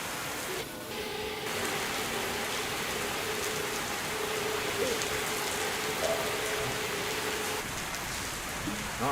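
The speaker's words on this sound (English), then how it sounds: "And there's rain sounds." Simulated rain in the X-Plane 12 flight simulator, heard in an A321XLR on a flight from KATL to KSLC. A steady, dense hiss of rainfall patters on the aircraft throughout, loud and even, with no voices.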